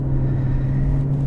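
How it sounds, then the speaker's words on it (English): Aston Martin DB11 V12 engine running in comfort mode, a steady low rumble and hum heard from inside the cabin, continuous and moderately loud with no talk over it. "Even in comfort mode, you can hear that engine in the background"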